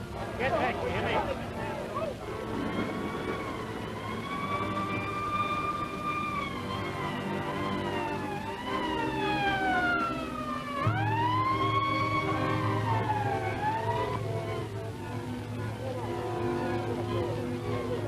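Wailing ambulance siren rising and falling in long sweeps, fairly close, over a rumbling vehicle engine, with voices talking and shouting underneath, from a 1938 film serial.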